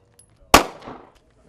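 A single handgun shot at a police shooting range, one sharp loud crack with a short decaying echo, alone between quiet stretches.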